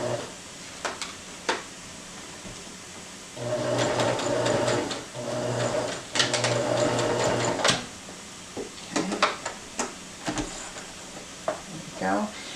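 A sewing machine stitches elastic onto a fabric face mask in bursts, a few short clicks, then two longer steady runs of rapid needle chatter, then more scattered short taps, close and moderately loud.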